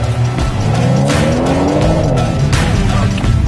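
A BMW 1 Series accelerates hard out of a slalom course at a fan driving event, its engine note rising steadily and staying loud and close throughout, with tire noise mixed in.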